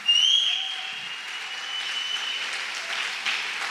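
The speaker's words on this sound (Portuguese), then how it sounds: "Dê para Jesus um aplauso." A church congregation claps during a service, a brief wash of applause that swells at the start and holds steady, with a faint tone ringing over it.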